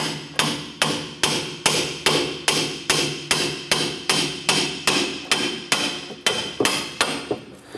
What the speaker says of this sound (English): I'm gonna use our hammer to go ahead and work our clevis fork off of our strut.